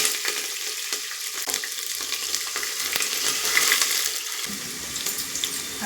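Green chillies frying in hot oil with whole garam masala spices for jackfruit biryani: a dense, steady sizzle close by with occasional scraping stirs, rising slightly toward the end.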